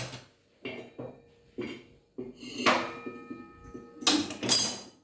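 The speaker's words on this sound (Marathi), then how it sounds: "इथे आपण कढई ठेवून देऊ" A metal kadhai wok set down on a stove amid kitchen handling, a series of sharp clanks and scrapes of metal, with the loudest knocks coming near the end.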